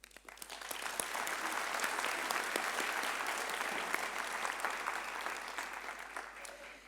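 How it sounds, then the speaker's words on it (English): A graduation ceremony crowd at Rhodes University breaks into loud, sustained applause that swells quickly and holds steady for several seconds, a dense wash of many hands clapping with no voices on top. "they deserve a thunderous applause"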